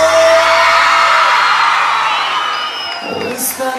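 A loud crowd at a live cumbia santafesina concert shouts and whoops in a sustained roar that thins out toward the end, with brief higher cries near the close.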